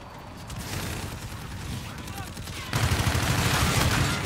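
Sustained gunfire in a Call of Duty: Infinite Warfare Domination multiplayer match, a dense continuous rattle of automatic weapons that grows louder and heavier partway through.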